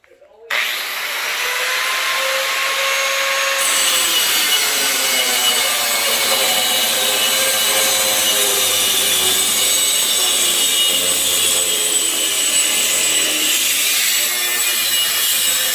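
A cutoff wheel grinding through a rubber radiator hose for a custom lower hose on an LS-swapped 5.3 '63 Olds, one continuous loud high whine that starts abruptly and holds steady for about fifteen seconds.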